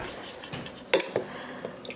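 Small splash of water poured onto aronia berries and sugar in a pot before warming for jam, a brief drippy squish with a couple of wet plops, close and fairly soft.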